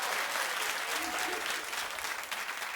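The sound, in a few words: audience applause and clapping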